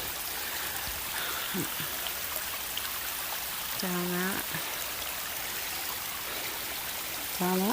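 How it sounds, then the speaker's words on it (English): A waterfall beside the Appalachian Trail produces a steady, broad rushing hiss of falling water, with someone speaking briefly over it and a few short bird-like chirps. "But there's this lovely waterfall that just showed up"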